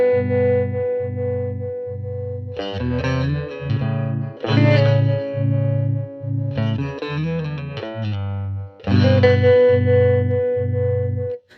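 Electric guitar runs through a Spaceman Delta II harmonic tremolo pedal, with steady pulsing volume throbs under sparse, ringing picked chords and notes, close and clear with a touch of reverb.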